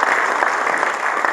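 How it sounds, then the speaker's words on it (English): Applause from an audience at a Bengaluru tech event rolls on as a dense, loud, continuous wash of clapping, close and unbroken from start to finish. "the man requires a round of applause"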